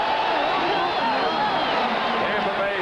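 Stadium crowd at the 1979 NFC Championship football game between the Rams and Buccaneers in Tampa Bay roars continuously, a loud, sustained wall of cheering that stays steady throughout.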